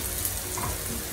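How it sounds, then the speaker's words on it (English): Homemade sweet and sour sauce hitting a hot pot of tofu, giving a steady, dense sizzle that fills the whole brief moment, close and fairly loud with no voices. "I'm gonna put on my sweet and sour sauce"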